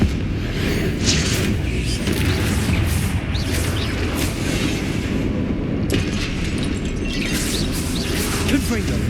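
Confringo blasting spells explode repeatedly in Hogwarts Legacy, loud booming bursts over a dense rumbling game background, with several impacts spread through the stretch.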